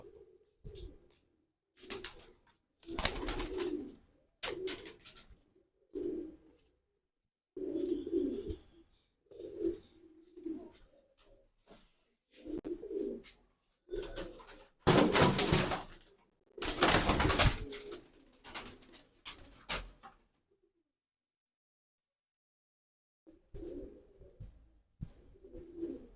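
Pigeons in a breeding pair cooing in repeated low throaty phrases with gaps between, close and moderately loud, with a few sharper bursts of bird noise and a quiet stretch near the end.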